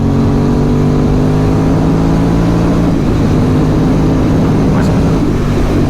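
Aprilia Dorsoduro 750 motorcycle engine pulling hard in gear on a first ride, a loud continuous drone with steady harmonics and heavy wind rush, close and unbroken throughout.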